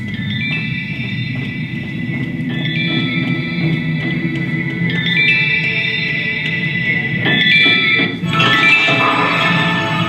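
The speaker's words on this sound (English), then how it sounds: "That scatter sound is the sound of the light, the exit." A shimmering scatter of reverberant chimes marks the exit light in the audio game Papa Sangre, recurring every few seconds over a low rumbling bed and swelling brighter near the end.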